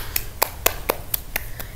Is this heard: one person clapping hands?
yes